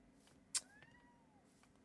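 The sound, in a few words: cats meowing in the room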